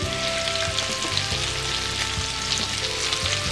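Salmon fillets fry skin side down in melted butter, giving a dense, constant sizzle with fine crackling spatters, close and fairly loud, with no talk over it.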